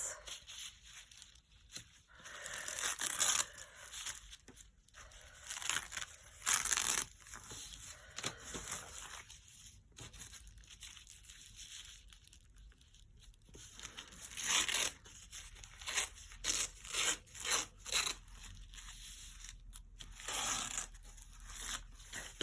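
Tissue paper strips are torn and crumpled by hand in bursts of crisp ripping and crinkling, close and fairly quiet, separated by short pauses.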